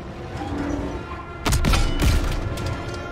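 A loud booming tank cannon blast followed by a second heavy shot, with rumbling low-end and battle noise filling the background, in the game Call of Duty: WWII, Aachen.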